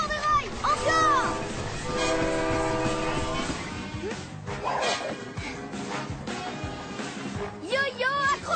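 Cartoon train Roborail, from the animated series Pyjamasque, rolls along rails with a steady rumbling clatter and whistle-like tones mixed with background music, while characters talk over it throughout.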